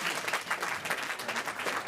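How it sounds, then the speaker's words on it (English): Applause at a county commission meeting after a public speaker, steady clapping from a modest crowd at moderate, fairly distant level, with no talking over it. "Thank you for the applause."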